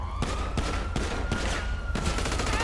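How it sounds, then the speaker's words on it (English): Rapid bursts of automatic gunfire in GTA Online, about six loud volleys spaced roughly half a second apart over a steady game hum, with no talking. "they're shooting me."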